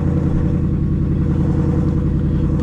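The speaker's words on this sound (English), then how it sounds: "The track mode sounds relatively good on this, honestly." A 2024 Ford Mustang Dark Horse V8 in track mode holds a loud, steady, deep engine rumble close up, with no talk over it.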